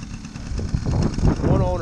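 A 1978 Honda Express NC50 moped engine idles close by with a steady low puttering hum, while someone talks over it.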